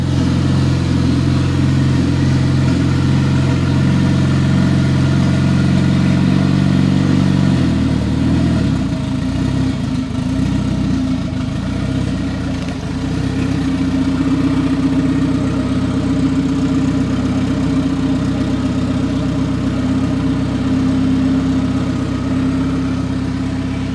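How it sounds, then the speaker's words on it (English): The 600 hp turbocharged engine of a 1992 Honda Civic EG hatchback idles steadily and loudly on its first start, with a deep, rumbling low hum, shifting slightly in tone partway through, with no talking. "Hey TJ, she's idling really good"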